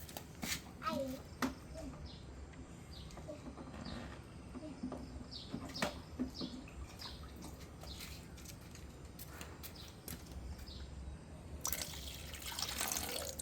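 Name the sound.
water being poured onto plants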